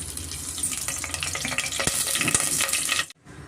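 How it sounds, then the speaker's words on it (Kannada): Whole spices sizzle in hot oil in a pan for a biryani, with a steady crackling hiss and a few sharp pops and clinks, near and fairly loud, then cut off abruptly near the end. "ಸ್ಪೈಸಸ್ ಸೇರಿಸ್ಕೊಳ್ಳೋಣ ನಾವು ಚಕ್ಕೆ ಲವಂಗ ಕಸ್ತೂರಿ ಮೆಥಿ ಮತ್ತು ಕಲ್ಲುವ ಪದಾವೆಲೆ"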